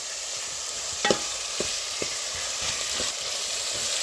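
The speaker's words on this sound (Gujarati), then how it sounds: "હવે ડુંગળી આપણે સરખી રીતે આપણે પાકી જવા દઈશું" Onions fry in a pan with a steady hiss of sizzling, broken by a few light taps and scrapes from stirring, close and alone without talk.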